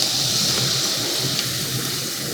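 Fresh cut french fries being lifted out of hot frying oil, giving a steady loud bubbling, sizzling hiss that fills the whole moment without any talk.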